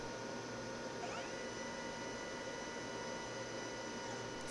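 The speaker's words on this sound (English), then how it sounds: "When the process has completed, the filament and splice head will return home." A GPX glass processor moves its filament and splice head back to the home position after tapering an optical fiber, a faint, steady mechanical whir with a soft motorized glide, no talk.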